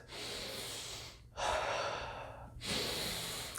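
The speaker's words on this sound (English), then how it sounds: "most people breathe from their chest." Three close, audible breaths drawn from the chest in a breathwork demonstration, each a long airy inhale or exhale separated by short pauses, with no talking.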